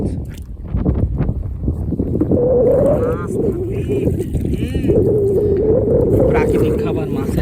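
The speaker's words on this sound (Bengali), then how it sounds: "এই যে অটোমেটিক নৌকা চলছে" A boat drifts with the waves on Morjad oxbow lake, a steady wash of water and wind noise running throughout while people talk nearby.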